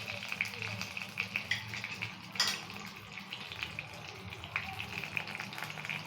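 Mustard seeds and green chili tempering in hot oil in a home kitchen, a steady soft sizzle with light crackles running throughout, fairly quiet, with no talk over it.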